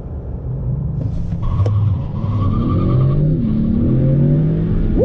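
A 2020 Honda Accord Sport 2.0T with a turbocharged engine launches hard and accelerates, its loud rising engine note climbing through gears with a brief tire chirp, close and steady throughout.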